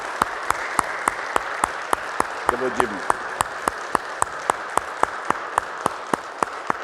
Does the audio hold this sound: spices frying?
no